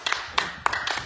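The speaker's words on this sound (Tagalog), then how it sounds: "Palakpak. Palakpak!" Hands clap a few times, about four or five crisp, separate claps spaced unevenly across a second, close and fairly loud, with no talking.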